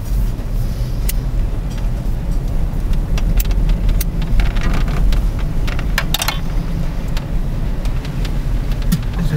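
A 1996 Ford F150 pickup truck drives along a farm road, its engine and road noise forming a steady low rumble from inside the cab, with scattered light clicks and rattles.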